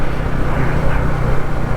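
Street traffic in a congested Maharashtra town, heard from a motorcycle: a constant engine drone and road rumble, close and fairly loud, with no clear individual horns.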